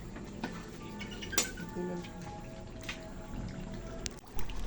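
A spoon scraping and clinking against a metal cooking pot while shrimp paste (bagoong alamang) is stirred, with soft irregular knocks and a faint wet slosh, close and fairly quiet.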